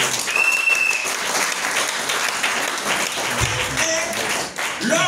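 Church congregation applauding throughout a sermon on respecting and honouring fathers, dense steady clapping filling the room at even loudness with a few brief tonal cries above it.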